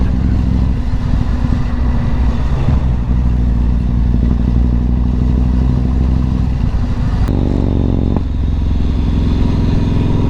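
Yamaha MT-01 motorcycle ridden along sweeping country roads, its big engine droning loud and steady with wind rush, the pitch shifting partway through as the throttle changes.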